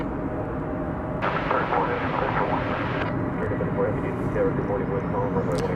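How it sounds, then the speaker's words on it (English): An Embraer 175 E-jet airliner arriving at DFW Airport from Houston gives off a broad, steady jet roar at moderate distance, with a voice talking over it throughout. "that was coming in from Houston, flight 3474 in Embraer 175"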